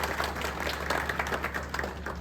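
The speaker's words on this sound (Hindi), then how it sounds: "मैं चाहूंगा कि एक बार फिर से जोरदार तालियां आपके लिए।" An audience at a village health checkup camp applauds, a fairly faint, uneven patter of clapping heard over a steady background hum.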